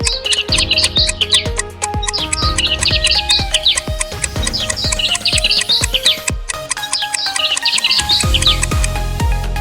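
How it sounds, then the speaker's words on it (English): Sparrow chirping in repeated bursts of bright, rapid tweets, loud and close, with short pauses between calls and other birds chattering underneath. "Yes, it's a sparrow."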